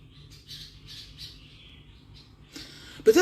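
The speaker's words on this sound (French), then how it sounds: "Je vais aller écouter les oiseaux." Outdoor birds give a run of bright squawks and chirps, several evenly spaced calls followed by a sudden louder burst of squawking at the end.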